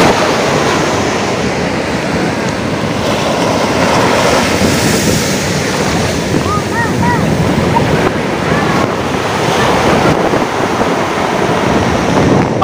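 Ocean surf rolling onto a white-sand shore at Pandawa Beach, Bali, a steady broad wash of breaking waves mixed with gusty wind buffeting the microphone throughout.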